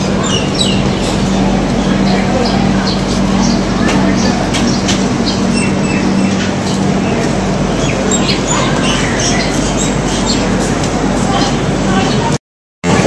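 The 12345 Saraighat Express pulling into Kamakhya Junction: a constant, loud, broadband rumble and rattle heard from on board, with people talking throughout before a sudden brief cutoff near the end.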